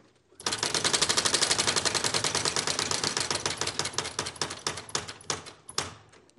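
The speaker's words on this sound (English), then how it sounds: "That sound means there's only vowels left now." On a UK Wheel of Fortune game show, a rapid mechanical clattering cue rattles out loud and steady for several seconds, like a fast typewriter, then slows and thins out toward the end.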